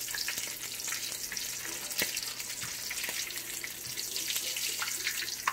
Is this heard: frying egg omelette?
yes